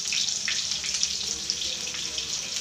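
A little water is poured onto bitter gourd cooking in a pan on a griddle, giving a hissing, splashing sizzle that runs steadily for a few seconds at close range.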